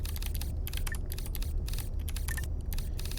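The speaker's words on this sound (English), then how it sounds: "I apologize about my really loud keyboard" Loud computer keyboard typing, a dense run of sharp clacking keystrokes in quick uneven bursts with brief pauses, close to the microphone and with no talking.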